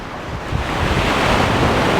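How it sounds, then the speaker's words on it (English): Ocean waves wash in as the tide comes up on a beach in Ecuador, a loud continuous roar of surf that swells slightly, mixed with wind buffeting the microphone. "the water's coming all the way up there"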